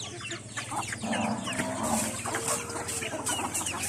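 Several hens cluck and murmur nearby in a busy farmyard in rural northeastern Thailand at evening, soft repeated calls over a low background hum.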